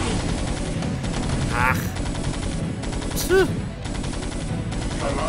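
Goliath walkers in StarCraft fire sustained machine-gun bursts in a dense, loud battle, with short whooshing effects cutting through and a brief spoken exclamation.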